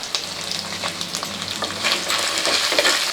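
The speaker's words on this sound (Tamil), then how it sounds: "இப்போ வந்து காஞ்ச மிளகாய் சேர்த்துக்கலாம்" Dried red chillies and small shallots crackle and sizzle in hot oil in a pan for a chutney, a dense continuous frying hiss with occasional stirring scrapes, close and loud.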